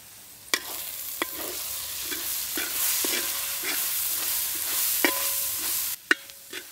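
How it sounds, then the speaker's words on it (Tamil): Masala of chili powder, garam masala, coriander and turmeric stirred in a hot pan with a steady sizzle, punctuated by several sharp clinks of a spoon against metal. "மசாலா சேர்த்து ஒரு 2 நிமிஷம் நல்லா வதக்கி விடணுங்க."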